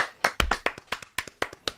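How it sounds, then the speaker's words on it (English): A single person or small group claps for an award winner, about ten to twelve crisp, close hand claps in an uneven rhythm, with no talk over them. "Thunderous applause."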